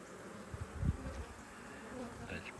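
Honey bees hum around an open hive during an inspection, a steady low buzz with a brief louder swell as one passes close, no talking.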